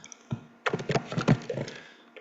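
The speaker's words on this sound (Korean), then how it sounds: "키보드를 치고요." Keys clatter in a quick, uneven burst of typing on a computer keyboard, close and fairly loud, with no talk.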